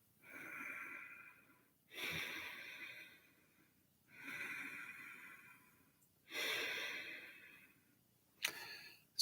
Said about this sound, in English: the type of breathing that I've taught before called whisper breathing